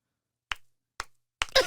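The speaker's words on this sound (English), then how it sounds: "I just got to clap." Three sharp, separate hand claps from a comedian on a podcast set, spaced about half a second apart and standing alone in silence, with a burst of louder noise following the last one.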